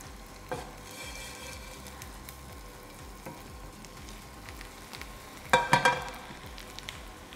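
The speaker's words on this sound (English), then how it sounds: "Nice little sizzle." Food sizzles steadily in a pan after the heat is turned off, a soft continuous crackle with a few sharper spits and clatters near the end.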